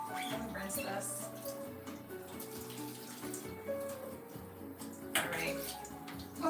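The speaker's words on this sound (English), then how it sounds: "Let me rinse this." Apples rinsed under a running kitchen tap during a bulk cooking session, a steady stream of water running throughout with dish clatter, while people talk over it.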